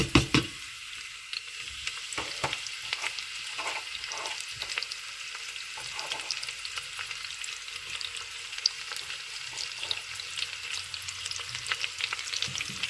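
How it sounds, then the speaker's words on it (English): Onion and green chili frying in a pan for a vegetable biriyani base, giving a continuous crackling sizzle with scattered pops and light spatula scrapes, close and steady throughout. "Now saute this until the onion is cooked well."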